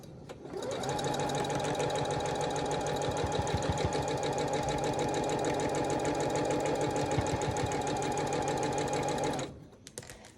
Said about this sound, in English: We're going to sew these all in a line.